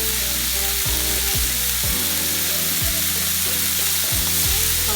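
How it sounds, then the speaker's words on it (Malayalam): Three onions frying with a pinch of salt in a thick, heavy old iron pan, a loud continuous sizzle with a low droning hum underneath and no talking. "ഇനി നമുക്ക് അതിനകത്തേക്ക് സവോള ഇട്ട് കൊടുക്കാം."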